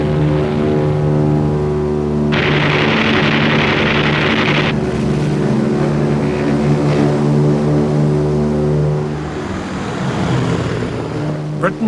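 Propeller engines of a low-flying aircraft drone loudly and steadily with a deep harmonic hum, and a brief hissier burst partway through, near and continuous.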